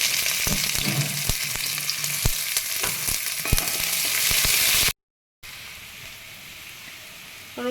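Chopped onion hits hot oil in a kadai and fries with a loud, dense sizzle and crackle, broken by a few sharp stirring knocks; after a brief silent cut the frying continues more quietly.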